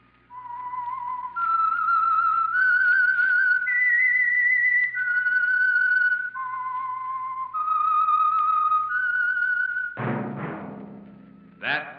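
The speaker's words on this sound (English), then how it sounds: "That whistle is your signal for the Signal Oil program, The Whistler." A lone whistler carries the eerie theme melody of the 1940s radio mystery program The Whistler, clear sustained notes stepping up and down in pitch, followed by a short burst of orchestral music near the end.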